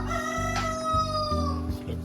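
A rooster crows loudly nearby, a long drawn-out call, heard where late-hatched chicks from a homemade incubator are kept among farm chickens.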